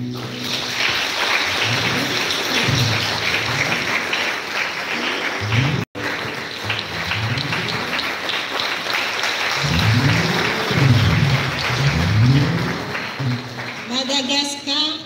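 Crowd applause fills a large academic mass ceremony as delegations are welcomed, a steady dense clapping wash throughout, with voices and some music-like tones mixed underneath.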